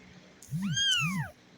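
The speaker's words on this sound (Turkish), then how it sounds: "Arkadaşlar miyav diyor." A young kitten, about a month old, gives two clear, close meows in quick succession, each rising then falling in pitch, in an otherwise quiet room.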